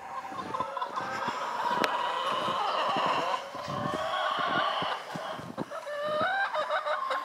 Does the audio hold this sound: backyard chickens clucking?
yes